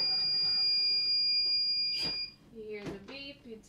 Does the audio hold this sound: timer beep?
yes